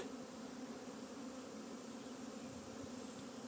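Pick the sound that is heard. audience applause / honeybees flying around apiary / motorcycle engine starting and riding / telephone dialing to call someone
honeybees flying around apiary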